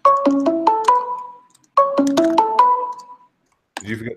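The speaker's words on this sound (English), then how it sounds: "Did you forget to mute your phone?" A phone's melodic ringtone plays two rising chime phrases, each trailing off, followed by a brief burst of voice at the end; fairly close and clear in an otherwise quiet room.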